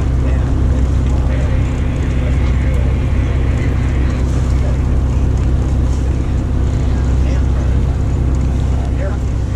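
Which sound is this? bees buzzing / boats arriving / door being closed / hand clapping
boats arriving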